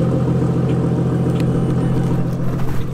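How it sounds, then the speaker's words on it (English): A Ford Mustang idles right after a new engine tune is flashed on, with a loud, close, steady low rumble and an even, lumpy pulse throughout. "they've flashed on the new tune, and they're letting it idle right now just to see how it idles"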